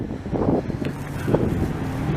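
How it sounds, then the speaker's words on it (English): Steady low wind rumble buffets the microphone on a downtown Montreal street, with a few brief gusty swells and distant muffled noise. "it's a little bit windy here, though"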